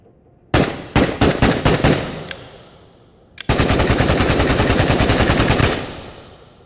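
An AK-variant rifle with a folding stock fires in the VR game Into the Radius: a few sharp single and short-burst shots, then a long rapid automatic burst, loud and close with a brief ringing tail.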